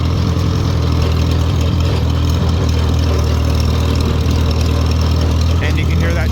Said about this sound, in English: you can hear that tractor's firing on all 4 cylinders.